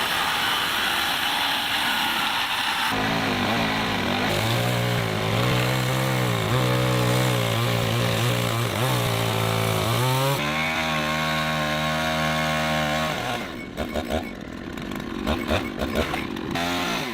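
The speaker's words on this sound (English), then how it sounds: "I am now trimming off the excess wooden ends from the top of the walls to give the cabin" A power tool trims excess wooden ends from the tops of cabin walls, a sustained loud buzzing cut whose pitch shifts as the blade works through the wood, ending with a few clattering knocks.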